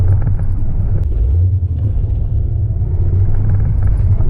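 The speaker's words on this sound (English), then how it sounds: "The first gear launch is pretty nice." Low, steady engine rumble and drivetrain drone from a manual V-8 Jeep Grand Cherokee ZJ pulling away in first gear on dirt, heard from inside the cabin, continuous and fairly loud with no speech.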